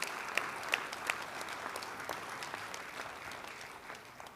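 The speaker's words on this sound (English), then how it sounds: "can you give these guys just a round of applause?" A round of applause at an Ottawa High School Hall of Fame ceremony honouring the 1969-70 varsity football team, faint and distant clapping with a few sharper individual claps early on.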